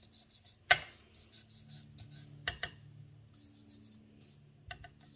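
An applicator rubs color onto scrapbook paper for a sunflower leaf design, making soft, faint scratchy strokes in short repeated bursts with a few sharper taps.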